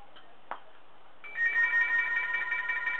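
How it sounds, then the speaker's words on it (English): A telephone rings with a steady electronic trill that starts after a brief click and a soft knock, moderately loud in a quiet room with no talking. "Bill, are you using the phone?"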